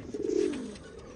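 A domestic homing pigeon gives a short, soft, low coo close by, a single rolling call lasting under a second against a quiet background.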